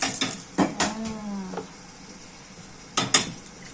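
Crepe pans clank and knock as they are handled in a home kitchen, a few sharp metallic bumps in quick bursts separated by a quiet pause, with a brief ringing tone.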